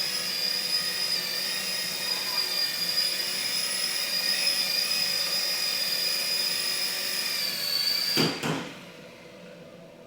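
A DEERC military rescue RC toy helicopter hovers close by with a steady high-pitched rotor and motor whine, then lands on a table with a brief clatter as the whine drops away.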